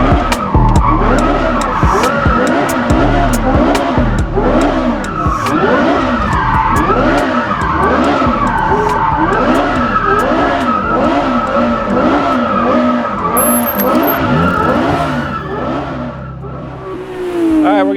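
Loud, continuous tire skidding and squealing from a 2015 Porsche 918 Spyder and a Carrera GT, with repeated wavering screeches over engine revving that hold steady for most of the stretch before easing slightly at the end.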